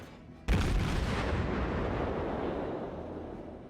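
A single heavy naval gun blast from World of Warships erupts suddenly, then a long rolling rumble slowly fades over the next few seconds.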